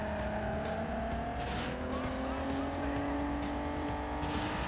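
Race car engine at steady high revs with a rising pitch and a long tire squeal while cornering in the Juiced 2 racing video game, continuous and loud with no pauses.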